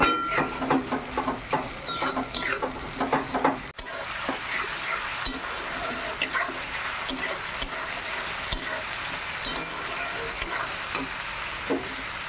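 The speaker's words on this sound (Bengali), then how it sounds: "ভালো করে ভেজে নেই" A paste of garlic, green chili and tomato with ginger sizzles and fries steadily in a hot pan, with stirring scrapes and clatter early on, then a continuous crackling hiss.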